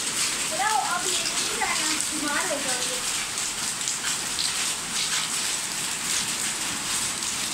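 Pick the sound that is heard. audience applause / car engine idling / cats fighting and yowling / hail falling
hail falling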